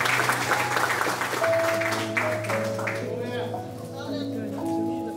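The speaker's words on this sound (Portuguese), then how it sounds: "Palmas de vitória para Jesus." A church congregation claps in a broad, continuous wash of hands, with held musical notes rising over it and a voice heard near the start.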